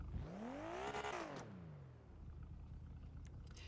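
A modded twin turbo RB26 engine in a GTA 5 car revs up sharply and falls back, a rising and falling whine over a low rumbling idle, close and clear with no talk.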